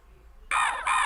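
A bird in the Green Eggs and Ham Living Books PC game gives two loud, harsh caws in quick succession. The calls are close and bright and break a near-silent background.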